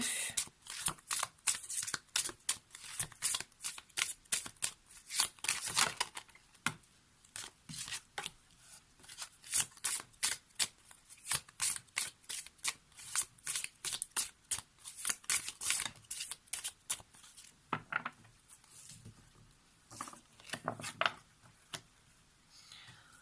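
Tarot cards shuffled over and over for a card reading, a steady run of crisp riffling flutters and snaps, close and fairly quiet, with no talk.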